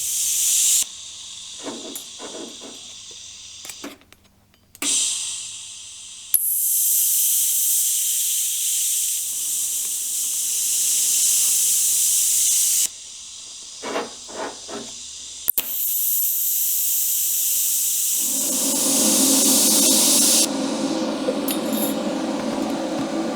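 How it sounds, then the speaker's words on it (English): Arc welding a notched part onto a Buckboard Flyer drive wheel: long steady crackling hiss in several bursts, broken by short pauses and clinks, close and fairly loud with no talk. "Line that up right there and weld it to it."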